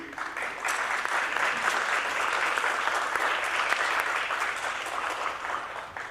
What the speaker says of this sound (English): How about a round of applause for the BAC?